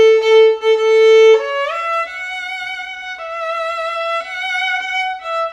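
Violin phrase from Red Is The Rose played solo, shifting up to third position: a sustained opening note, then a slide into a series of clear bowed notes, close and bright with no talk.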